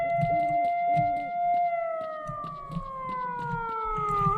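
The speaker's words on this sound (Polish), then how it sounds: "Ta syrena jest denerwująca!" A wailing siren blares in the game S.T.A.L.K.E.R.: Shadow of Chernobyl, a steady rising-and-falling electronic tone that holds throughout over low thumps and game noise, loud and continuous.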